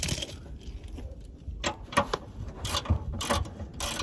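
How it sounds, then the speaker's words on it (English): Last bolt being worked out of the subframe of a Hyundai Genesis Coupe 3.8 under rebuild, with close metallic ratcheting clicks and clinks in irregular bursts against a low background rumble. "Now take your last bolt out."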